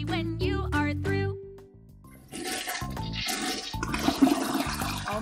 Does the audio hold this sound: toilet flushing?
yes